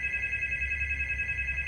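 A telephone handset rings with a steady electronic warble, an even, continuous tone with a rapid tremolo, heard clearly and alone at close range with no voices.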